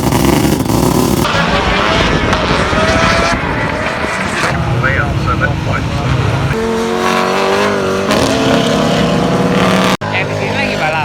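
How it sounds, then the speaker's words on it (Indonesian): Race cars racing and drifting on a motorsport track in New Zealand, with loud, continuous engine roar and shifting revs from several cars, under steady talk. "Yang di sini lagi balap. Yang di belakang sana lagi drifting pada satu track."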